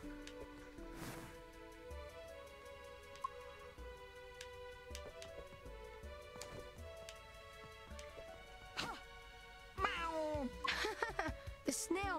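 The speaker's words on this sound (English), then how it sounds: "The snail meowed." A snail character meows in the fighting game Nickelodeon All-Star Brawl 2, with several quick, rising and falling meows bunched near the end over layered game music and scattered clicks.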